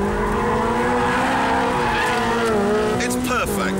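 A Porsche GT3 is driven hard, its engine roaring loud and close while tires squeal in sharp sweeping bursts near the end.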